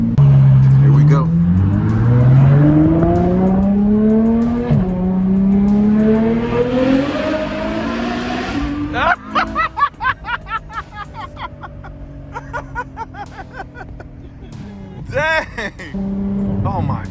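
A Ferrari F12 with a Frequency Intelligence exhaust revs close and loud in rising, high-pitched sweeps, then crackles and pops as the revs drop, with excited talk and laughter over it.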